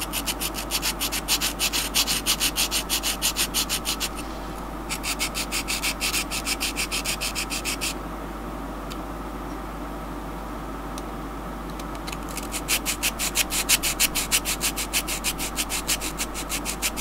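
A leather beveler is sharpened by rubbing it on 400 grit wet and dry paper wrapped on a lolly stick. Close rhythmic scraping strokes come in bursts, with a pause in the middle and a low steady hum underneath.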